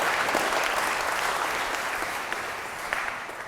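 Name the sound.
audience clapping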